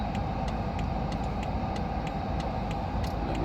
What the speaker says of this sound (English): So I'll be driving out of this petrol station.